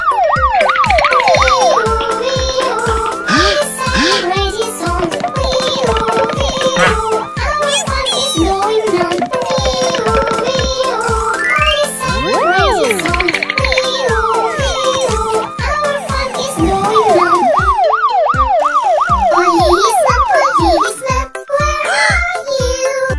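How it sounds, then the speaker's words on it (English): Toy police vehicle siren wailing loudly and continuously in a rapid up-and-down pattern, close by, with a voice faintly underneath. "It's a siren, it's a siren, that's what it is."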